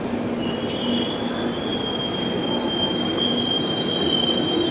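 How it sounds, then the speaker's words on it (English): A London Underground train to Morden pulls into Colindale station, its wheels squealing in long, high, sustained tones over a steady rumble, loud and close with no talk. "Anyway, here's my train."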